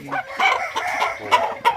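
Young roosters crow and cluck close by, with short strained cock-a-doodle-doo calls and clucks arriving in uneven bursts.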